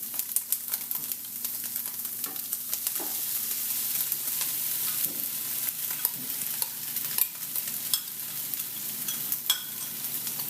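A tofu scramble frying in a pan and being stirred with spices, steady sizzle under intermittent scraping and tapping of a utensil, close and moderate in level.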